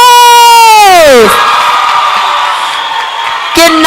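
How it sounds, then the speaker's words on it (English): A hall crowd at a university student recruitment roadshow cheers and applauds: a loud rising-and-falling whoop leads into sustained clapping and cheering noise, then another shout breaks in at the end. "Give University of Limpopo a big round of applause"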